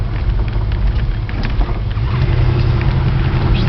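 A car running around a block, a steady loud engine and road rumble with wind buffeting the microphone throughout, no voices.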